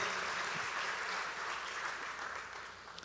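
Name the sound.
applause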